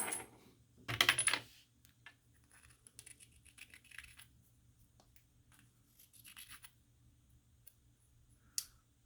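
Brass cartridge cases being dropped into a container during handloading case prep, one loud clattering drop followed by scattered lighter clicks and rattles in a quiet room.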